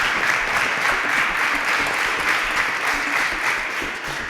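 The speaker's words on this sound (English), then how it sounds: "A round of applause for Ugota." Studio audience applause for a contestant on a televised student quiz show, steady dense clapping close and loud for the full stretch with no talk over it.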